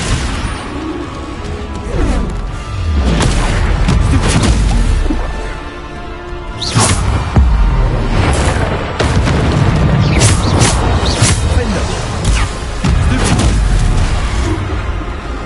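Loud Bombarda spell explosions in Hogwarts Legacy combat, several heavy booming blasts landing in an irregular sequence with crashing impacts between them.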